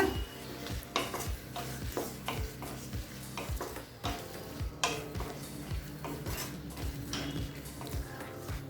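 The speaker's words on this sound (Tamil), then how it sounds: "காயை நல்லா வதக்கிக்கலாங்க." Brinjal and drumstick being stirred and sautéed in a pan for mochai kuzhambu, with a regular series of spatula scrapes and knocks against the metal over a soft sizzle.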